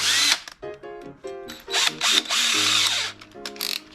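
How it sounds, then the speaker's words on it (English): A power drill with a 1/8 inch bit drilling while RV steps and friction hinges are installed: several short, close bursts of high motor whine that rise and cut off, with brief pauses between. "I'm just gonna use an 1/8 inch bit."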